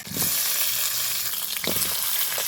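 Chopped tomato, sweet potato and raw green mango hit hot oil for a mango-tomato sour dish, giving a loud, close, continuous hissing sizzle with a few brief louder crackling flare-ups.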